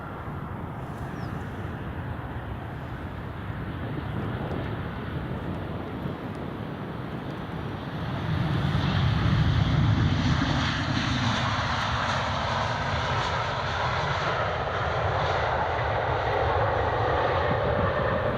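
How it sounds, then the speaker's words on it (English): KLM Boeing 737-800 jet at Edinburgh Airport, a broad steady engine roar that swells louder about halfway through and then holds, with wind buffeting the microphone. "Next here is the KLM 737-800"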